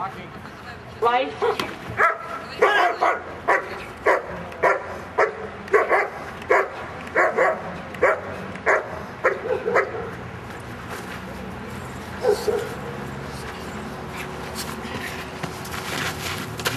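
A dog barks in a steady series of sharp, evenly spaced barks during protection training, then quiets, with a handler speaking faintly nearby.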